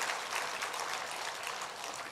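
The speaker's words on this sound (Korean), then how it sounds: "우리 밤에 오신 목사님들 뜨거운 박수로 한번" A church congregation at an evening revival service claps warmly and continuously for visiting pastors, a dense even wash of applause from many hands.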